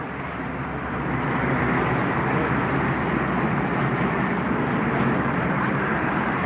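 An Embraer E195 jet arriving at Frankfurt airport gives a broad, steady roar of engine noise that swells after the first second and holds loud and even, heard from a moderate distance.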